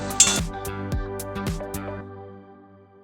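Cooked pumpkin greens being poured from a pot into a bowl, with a cluster of bright metal-on-dish clinks and knocks, then the ringing tone fades out, close and with no talk.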